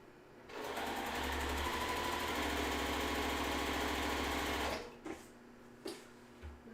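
A sewing machine stitching quilt squares, one continuous close, rapid whir lasting several seconds, then stopping, followed by a few soft handling thumps.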